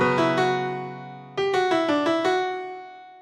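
A plain sampled piano from a Contact sampler, built from one sample, plays a short phrase that rings out, then a second run of distinct struck notes in a steady stepping rhythm, clear and close.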